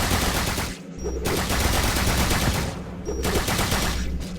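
Toxic Gunner towers in the video game Tower Defense Simulator fire in dense, continuous rapid bursts, loud gunfire that pauses briefly twice, with no speech.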